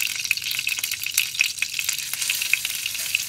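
Sardine patties frying in a pan, a close, busy crackle of sizzling oil with sharp little pops scattered throughout, steady and unbroken.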